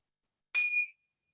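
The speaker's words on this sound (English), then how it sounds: "Just following the sound of the bell" A single small bell struck to close a meditation session gives one clear, bright ring that sustains briefly and fades into silence, quiet and alone.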